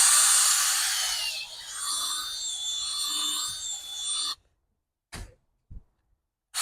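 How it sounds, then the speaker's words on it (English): A harsh, grinding churn of an electric drill with an auger bit mixing pre-compost and shredded Bermuda grass runs for about four seconds, then stops, followed by a couple of soft knocks. "this is the auger bit that I got from Lowe's or something attached to my drill to help me mix"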